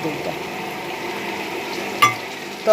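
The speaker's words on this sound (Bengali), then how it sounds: "দইটা দিয়ে নেড়ে চেড়ে আমি একটু কষতে সময় দেব" Steady low sizzle of curry frying in oil as sour yogurt is stirred in, with a couple of short metallic clinks from a spoon against the pan near the end.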